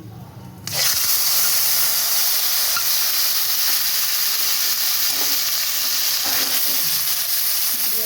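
Ginger, garlic, green chili and onion paste hits hot oil with a sudden loud, steady sizzle that carries on without a break, for a Bengali tilapia curry with mustard and poppy seed.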